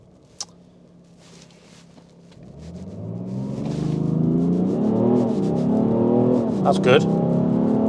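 A BMW 335d diesel car accelerates hard in a timed run, its engine note climbing loudly from a low rumble into rising, sustained roaring as boost builds, with a brief remark spoken early on.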